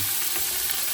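Curry leaves and onion frying in hot oil, making a dense, loud, continuous sizzle over one brief moment, with no talking.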